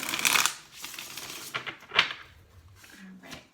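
A brisk riffle of tarot cards being shuffled, followed by softer shuffling and a few light taps at close range.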